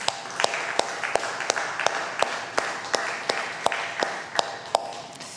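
Members of a church congregation clap in a steady rhythm, with sharp, regularly spaced claps standing out over a softer bed of scattered clapping.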